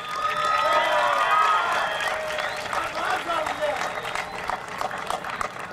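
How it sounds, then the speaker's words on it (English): Graduation crowd at a high school ceremony applauding and cheering for parents and families, a loud swell of clapping and whoops that peaks early then thins out, with voices and a tonal ring running through. "Give yourself a round of applause, and students, give them applause"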